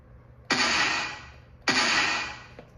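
Two snare hits processed with EQ and reverb, each a bright crack trailing into a longer, washy reverb tail that fades slowly before the next strike.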